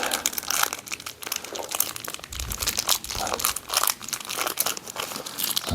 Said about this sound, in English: if we were then to take out one of the inserts from the M5 bag